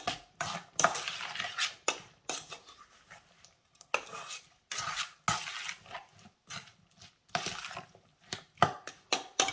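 A spoon stirs homemade salsa with sugar in a bowl, giving repeated scraping, clinking strokes in irregular bursts separated by short pauses, close and fairly loud.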